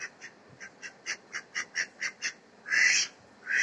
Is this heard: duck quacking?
yes